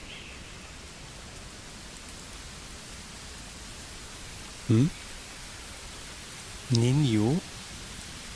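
Constant soft hiss of rain in Pathfinder: Wrath of the Righteous, an even background wash that runs throughout while someone briefly speaks twice.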